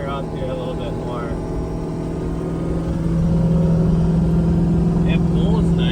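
Inside a moving vehicle, a rebuilt 6.4L engine drones steadily, then its pitch and loudness rise about halfway as it revs higher, with someone talking faintly at the start and end.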